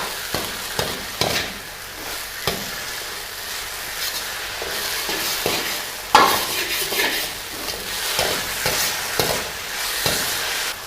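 Drumstick Manchurian balls are stirred in a sizzling gravy in a pan, with repeated scraping strokes of a utensil against the metal over a continuous frying hiss and occasional louder clanks.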